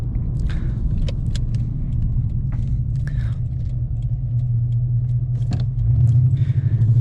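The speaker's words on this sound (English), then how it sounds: "every now and then when it drops down a gear, you just get reminded of that unreal sound" Holden VS Series III Statesman V8 engine drops down a gear while driving, a steady low rumble from inside the cabin that deepens and swells toward the end.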